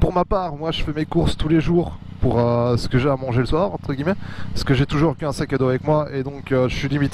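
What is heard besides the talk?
No distinct noise like a dog, phone or traffic.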